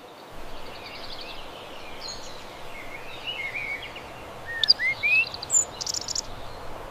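A bird sings a string of thin, high chirps and warbles against a soft, steady outdoor hiss, the notes growing louder and busier toward the end.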